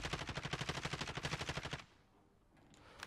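Rapid automatic gunfire in Call of Duty Warzone, a steady burst of about twenty evenly spaced loud shots over nearly two seconds, then cutting off to quiet ambient game noise.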